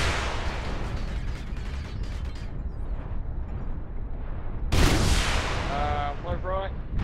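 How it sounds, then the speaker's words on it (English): An artillery strike in the mech combat game MechWarrior Online: rolling booms and rumbling blasts, then a sharp louder impact with crackling debris, heavy and close amid continuous battle noise. "Artillery strike online."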